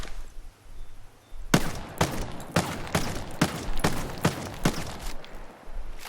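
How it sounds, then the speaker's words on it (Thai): Shotgun blasts in the video game Ghost Recon Breakpoint ring out close and loud, about seven sharp booms at a steady, slightly uneven pace, with quiet game ambience between them. "ต่อไปลองลูกซองแล้วกันลูกซองช็อตกันนะ"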